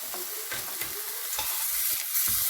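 Hamburger steaks frying in a pan give a steady hissing sizzle, close and continuous, broken by soft low thumps and scrapes of the pan and utensil.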